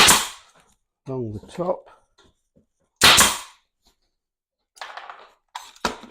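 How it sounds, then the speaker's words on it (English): A brad nail gun firing brads into baseboard: two sharp, loud pneumatic snaps a few seconds apart, followed by fainter clacks, with someone briefly speaking between shots. "On the brad gun"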